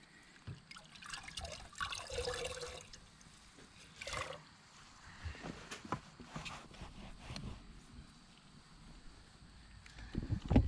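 Wet wiping and trickling water sounds on a mildewed boat surface in irregular bursts, close and fairly quiet, with small drips and splashes between strokes.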